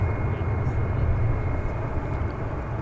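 An Alaska Airlines Boeing 737-900 arriving at DFW Airport, a steady broadband jet roar at moderate distance, unbroken throughout.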